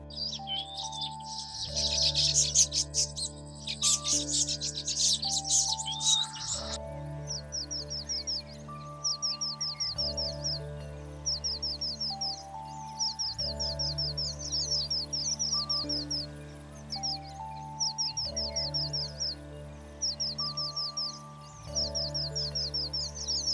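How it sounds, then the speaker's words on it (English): Small passerine birds such as weavers, avadavats and munias chirp in quick repeated bursts over a low droning hum, with a dense flurry of tweets near the start, at Panje wetland. "one can spot a variety of passerine birds such as the weavers, avidavats, and munias"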